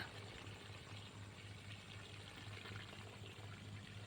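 Water flows and pours steadily through a basil garden, a faint, continuous trickle that holds even throughout.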